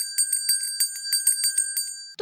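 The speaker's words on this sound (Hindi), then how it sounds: "यदि हम घंटी बजाते हैं" A hand bell rung in quick succession, about a dozen bright metallic dings in a steady rhythm, close and clear with no voices.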